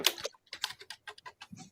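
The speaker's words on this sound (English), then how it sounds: "Somebody typing their ass off, ain't they?" Someone types rapidly on a computer keyboard, uneven bursts of crisp close key clicks with short pauses between.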